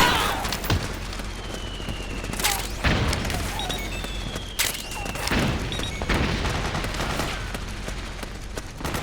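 Suppressing gunfire in Metal Gear Solid 4, heavy, irregular bursts of shots and booms scattered through a noisy battle, with shouted voices partly buried in the din.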